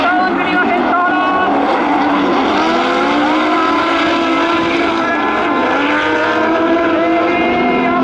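Four drift cars, Silvia bodies fitted with Toyota 2JZ six-cylinder engines, run in a team drift exhibition at Motor Fan Festa 2019, a loud sustained wailing engine roar with shifting pitch, an announcer talking over it throughout.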